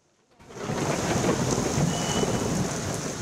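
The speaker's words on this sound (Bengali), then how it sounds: "মঙ্গলবার রাতভর বজ্রপাত সহ ভারী বৃষ্টিস্নাত রাত" Thunder rumbling over heavy rain during an overnight storm, a dense, loud downpour that starts suddenly and roars steadily with a rolling thunder undertone, no voices.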